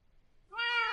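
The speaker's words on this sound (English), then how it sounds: "I heard cat." A cat lets out a single clear meow in a quiet room at night, starting halfway through after near silence and holding steady to the end.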